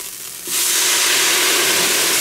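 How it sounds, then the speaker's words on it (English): Red wine poured into a hot pan to deglaze it for a Cajun oxtail stew bursts into a loud, steady sizzling hiss that starts abruptly and keeps going without let-up. "I'm going to deglaze that pan and get all those brown bits out of there."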